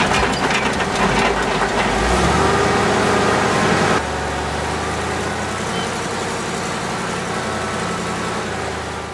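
A tree shaker machine called Big Shaky working a pecan orchard: a loud, rumbling engine with a heavy rattling, crunching shake that drops in intensity partway through and settles to a steadier drone.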